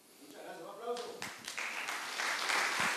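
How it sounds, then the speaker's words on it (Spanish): A lecture audience breaks into applause after a brief spoken phrase, the clapping building and growing louder as more hands join in. "Muchas gracias, un aplauso."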